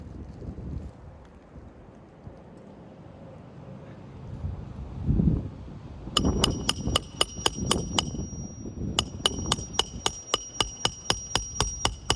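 A nail is hammered outdoors in a rapid run of sharp, ringing metallic strikes, first one burst and then a longer steady series, over low wind rumble.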